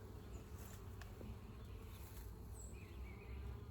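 Honey bees buzzing at a busy resource hive, a steady, dense hum of many wings, with a few nearer individual bees passing by, and no talking.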